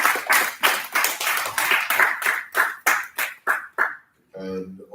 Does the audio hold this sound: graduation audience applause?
yes